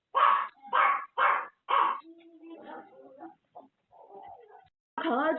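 A puppy gives four sharp, close barks in quick succession, followed by quieter yips and whines, with a voice speaking at the end.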